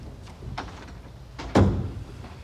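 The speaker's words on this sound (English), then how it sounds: "Close the door." An office door is pushed shut with a single dull thud, close by in a quiet room with faint background hum.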